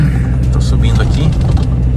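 A car with traction control engaged climbs a snow-packed, icy road in a steady low rumble of engine and tyres. Continuous nearby drive noise sits under someone talking.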